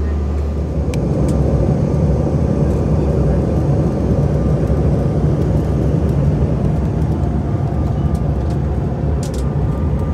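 Inside an airliner cabin shortly before landing, a loud, steady broadband engine and air roar fills the space, continuous and unchanging throughout.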